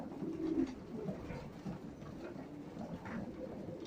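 Racing pigeons coo in a loft at feeding time, several soft overlapping coos rolling on amid rustling flock noise, close and moderately loud.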